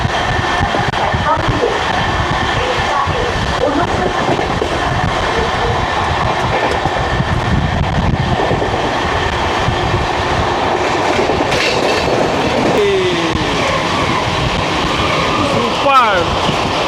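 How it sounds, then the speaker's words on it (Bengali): The Kolkata–Sairang express (13125) races through Belgharia station at full speed. A loud, steady rumble of wheels and carriages with clattering rail joints is heard from on board, and people talk over it. "বেলগড়িয়া স্টেশন পার করছে ঝড়ের গতিতে"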